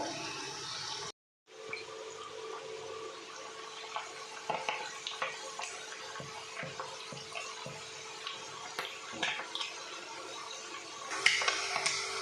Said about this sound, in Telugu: ఇప్పుడు మనం రొయ్యల్ని మూత పెట్టకుండా ఇలానే ఆయిల్లో ఫ్రై అవనిద్దాం